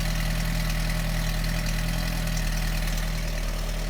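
A 1990 Peugeot 309 with a 1294cc engine idles steadily after a cold start in freezing weather, a constant low rumble with a slight hum, close by and with no voices.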